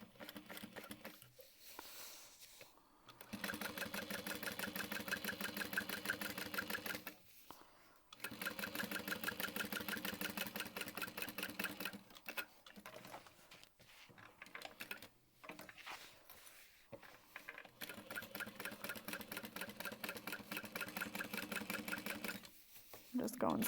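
A sewing machine stitches a small-seam-allowance handbag seam in several long, slow runs separated by short pauses, with a steady rapid needle patter throughout.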